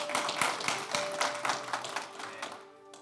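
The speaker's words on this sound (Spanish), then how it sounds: "¿Por qué no les damos un aplauso" A church congregation gives a round of scattered, light hand claps, close and uneven, over faint sustained tones. The clapping tapers off toward the end.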